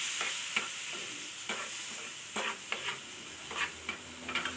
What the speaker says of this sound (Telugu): ఇప్పుడు నేను కప్పు ఉప్మా రవ్వ తీసుకొని నెయ్యి వేసుకొని దోరగా వేస్తున్నాను